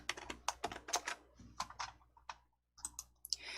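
Light, quick clicks of a computer mouse and keys at a desk in a Korean word-processor lesson, several soft taps in close succession, a short pause, then more clicks.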